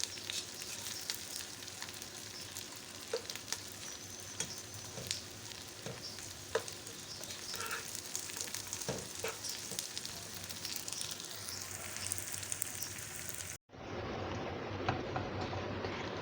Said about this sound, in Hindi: अभी देखें भिंडी को मैंने फ्राई कर लिया है, इतना ही फ्राई करना है इसका ना।